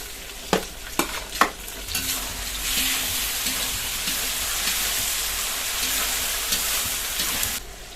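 Onion, garlic and green chili frying in a pan, a few sharp clanks of a utensil at first, then a steady, moderately loud sizzle with faint stirring scrapes running to the end.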